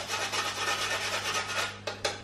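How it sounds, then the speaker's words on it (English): Fresh nutmeg is rubbed against a grater over infused cream for dauphinoise potatoes, a close, steady rhythmic rasping scrape with a couple of sharper scratches near the end. "I'm just going to finish the cream, the infused cream, with some fresh nutmeg. And just a few grates of that in there."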